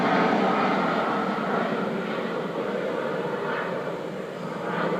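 Steady roar of aircraft engines at Hartsfield International Airport with a Spirit Airbus A320 nearby on the tarmac, a loud, broad continuous rumble and whine that swells slightly, no talking.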